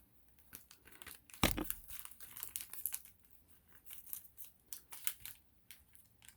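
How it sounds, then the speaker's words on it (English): A small paper envelope is opened, giving soft, close crinkling, tearing and rustling with one sharper rip near the start, quiet throughout. "Okay, we have another little envelope here. Let's see if I can open it."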